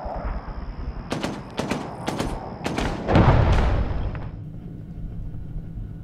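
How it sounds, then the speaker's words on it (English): An A-10 close air support gun run strafes ZSU-23 anti-aircraft guns in an Arma 3 mission, heard as several sharp, loud bursts followed by a heavy rolling roar of impacts that fades away. "Draco is inbound for a close air support precision gun run on enemy ZSU-23s inside the compound."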